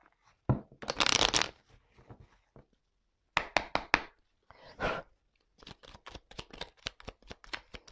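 Oracle cards being shuffled by hand: several separate bursts of riffling and slapping, close and fairly quiet, with short pauses between them and a run of quick taps near the end.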